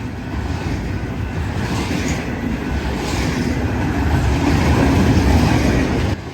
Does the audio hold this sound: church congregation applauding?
no